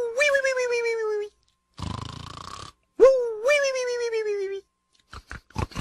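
Exaggerated snoring in repeating cycles: a rising, whining intake then a rattling snore, repeated twice, followed by short clicks and sputters.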